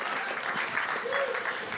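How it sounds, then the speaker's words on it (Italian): Brief burst of steady audience applause at a live comedy show, dense clapping filling the room evenly from start to finish. "facciamo un applauso."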